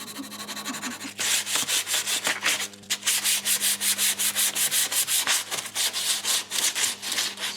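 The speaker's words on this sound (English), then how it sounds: "Sand the whole thing, get a little bevel going on." Rhythmic back-and-forth strokes of 220-grit sandpaper wrapped over a block, sanding and beveling the wooden body of a guitar kit, close and steady with a short pause midway.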